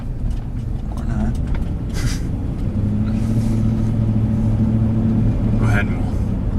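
A 2005 Ford Expedition SUV engine accelerates on a road with a steady, loud low rumble and a slowly rising drone, while people talk over it throughout.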